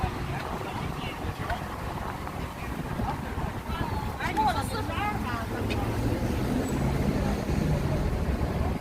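Wind blowing on a walk through New York City toward Hudson Yards, heard as a steady, rough roar and buffeting over the whole stretch, with faint street sounds and brief distant voices underneath.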